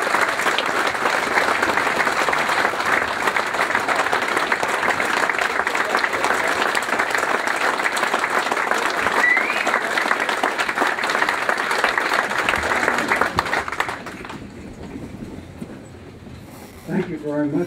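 Loud, sustained applause from an audience at a historian's talk marking the 75th anniversary of the WWII Battle of the Bulge, dense clapping that fills most of the stretch before cutting off abruptly near the end.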